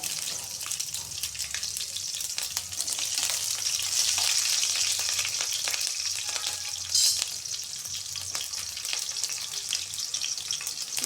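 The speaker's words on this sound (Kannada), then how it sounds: "ಕಾಲು ಟೀ ಸ್ಪೂನಷ್ಟು ಸಾಸಿವೆ ಹಸಿಮೆಣ್ಸಿಕಾಯಿ ಹಾಕ್ಕೊಂಡೆ" Mustard seeds and green chillies frying in oil for a carrot palya, a continuous bright sizzle with faint popping and a short sharp crackle burst partway through, no talking.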